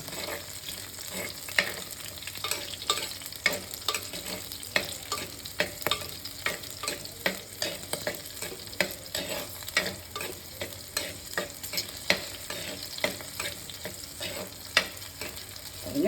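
Green chillies and mixed vegetables frying in a pan, a continuous soft sizzle broken by frequent rhythmic scrapes and taps of a stirring spoon, close but fairly quiet, no talk.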